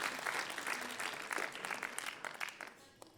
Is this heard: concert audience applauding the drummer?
yes